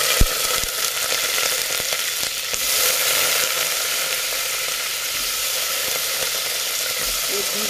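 Raw grated potatoes fry in very hot ghee, giving a steady, fairly loud sizzle and crackle with a few sharp clicks of stirring, without any speech.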